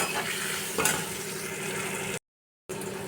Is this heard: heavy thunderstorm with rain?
no